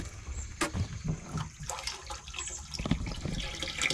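Water flowing and gurgling unevenly nearby, with bubbly splashes and small surges rising and falling over a few seconds.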